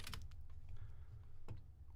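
Computer keyboard typing, a quick run of sharp clicks followed by a pause, then a few isolated key taps; close and clear with no voices.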